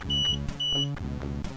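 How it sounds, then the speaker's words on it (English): A MUSTOOL MT8206 digital multimeter sounds a high-voltage warning while measuring mains AC, a rapid series of sharp electronic beeps in a pulsing pattern, close and clear with no talk. "you might have noticed that beeping sound when I turned on the power. That's the meter warning us that we are currently measuring a high and potentially dangerous voltage"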